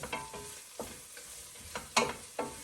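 Peppers fry in a pan with a quiet sizzle, broken by several scraping stirs of a utensil at irregular intervals, soft and close with no talking.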